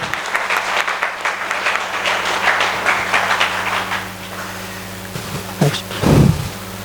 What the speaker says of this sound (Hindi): तो मैं चाहूँगा सर के लिए भी एक बार जोरदार तालियां हो जाएं